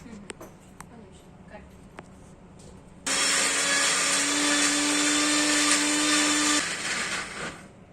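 A kitchen mixer grinder powders salted ingredients for jackfruit seed cutlets, whirring loudly and steadily for about three and a half seconds before stopping, with quiet room sounds before and after.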